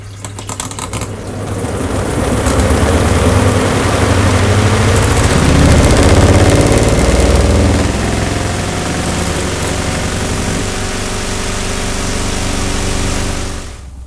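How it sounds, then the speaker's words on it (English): A Leisurewize Portawash portable washing machine running a spin cycle, a loud close mechanical whir that spins up, holds and then settles into a steadier hum before winding down. "But now these need another spin, so let's hope it's a bit more balanced."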